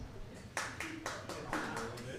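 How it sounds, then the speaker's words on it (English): Faint, scattered applause from a small comedy club audience, with several distinct claps in a loose rhythm over quiet background noise. "Just clapping for everything I've done so far."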